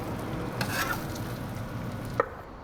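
Meat sizzling and frying steadily on a hot griddle for a chopped Italian sandwich, with a brief scrape and clack partway through as the pieces are flipped; close and fairly quiet, no talking.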